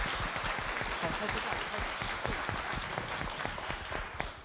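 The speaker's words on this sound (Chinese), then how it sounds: "掌声鼓励一下" A crowd at a political party's founding convention applauds newly elected members with dense, sustained clapping that holds steady for several seconds, with faint voices mixed in.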